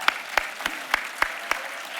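An audience at a business breakfast with California's governor claps in a sparse, steady rhythm of six separate sharp claps, fairly close and clear with no voices.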